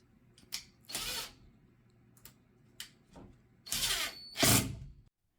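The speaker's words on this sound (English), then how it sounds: "first by drilling the holes and then attaching the screws" A power drill bores holes to attach a board to a headboard, in several short whirring bursts separated by pauses, the last two longest and loudest.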